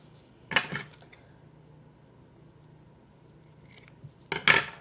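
Scissors snip through quilting fabric for a baby blanket in two short bursts, one near the start and one at the end, close and crisp, with a quiet stretch between and no talking.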